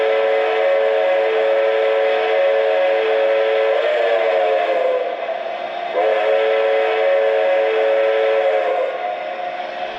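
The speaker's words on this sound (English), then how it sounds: "If you want it to whistle, you can pull down the whistle" A sustained multi-tone steam whistle from a Lionel New Scale Hudson 6-18056 model train blows loudly and continuously for several seconds, pitch wavering slightly midway, with no talk.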